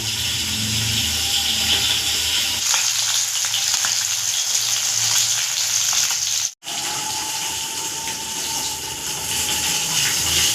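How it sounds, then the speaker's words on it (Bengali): Fish fries in hot oil with a loud, continuous crackling sizzle, alone and close up, broken only by a momentary cut partway through. "মাছটা ভাজা হয়ে গেছে"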